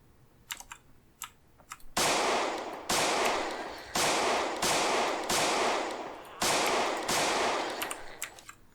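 Rapid bursts of gunfire from the zombie survival video game Project Zomboid, about six loud, sustained volleys in quick succession, preceded by a few faint clicks, with no talk.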